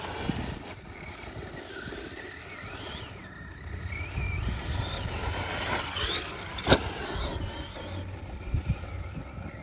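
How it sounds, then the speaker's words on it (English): A Traxxas RC truck drives with its motor whining and the chassis slapping the ground, sustained engine noise with a sharp thump near the middle and smaller knocks toward the end. "Got that famous chassis slap."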